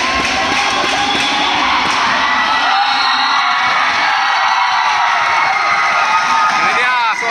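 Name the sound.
fans cheering at school handball match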